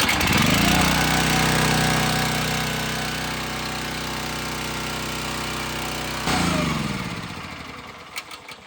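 A Split-Fire log splitter's small gas engine, freshly topped up with oil, starts and runs with a loud rough rattling hum, drops to a steadier idle, then surges again briefly before winding down near the end.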